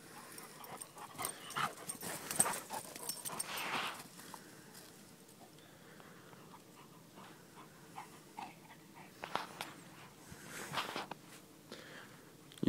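A large Newfoundland dog playing outdoors, with soft close panting and snuffling mixed with scuffing paws on the ground, a few louder bursts of movement, and low background noise throughout.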